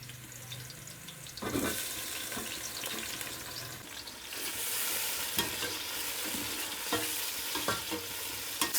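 Tomatoes sizzling and frying in a pan with lightly browned onions for a pea and potato pulao, with a steady close hiss and occasional stirring clatter from the utensil.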